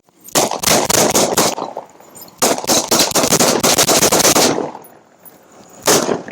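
A rapid volley of gunshots in an officer-involved shooting, loud, sharp cracks fired in dense bursts, a pause, then another long burst and a final shot, with no voices over the firing.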